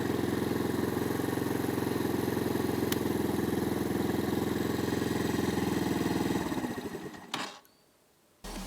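Rieju Marathon 125 single-cylinder engine idles steadily and close for several seconds, then stutters and dies out before a short silence and a final noise; the bike has a fault where it won't switch off with the key.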